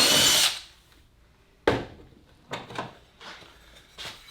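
A power drill boring a pocket hole into a clamped wooden board in a garage workshop: a loud whir at the start, then several short, sharp clunks and bursts as the drill and board are handled.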